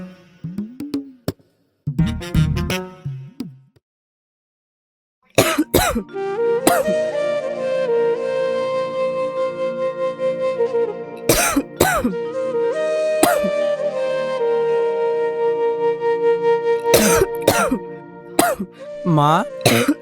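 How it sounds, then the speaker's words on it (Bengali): A woman gives several short throaty coughs and clears her throat in a domestic drama scene, with bursts of close coughing between stretches of tonal background music. "তোমার কাশিটা বেড়েছে নাকি?"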